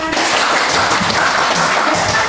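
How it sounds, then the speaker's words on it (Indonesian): Applause from a classroom of students, steady dense hand clapping that fills the whole moment, close and loud with no talking over it. "Tepuk tangan."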